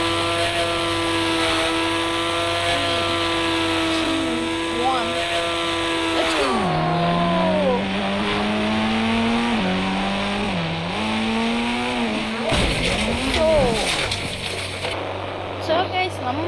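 Toyota Fortuner in the Indian Bike Driving 3D video game, its engine a steady loud synthetic drone that drops and wavers in pitch midway as the car jumps and lands, with a brief crash burst near the end.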